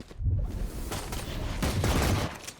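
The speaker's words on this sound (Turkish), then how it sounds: "Yine smoke'tan vurdu." Gunfire in a Valorant team tryout match, with bursts of shots and rattling fire clustered at the start and again near the end, fairly close and loud, with no speech.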